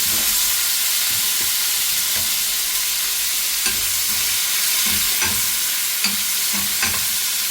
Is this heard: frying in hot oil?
yes